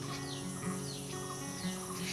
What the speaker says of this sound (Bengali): পাখিদের কলকাকলি শোনা যায়।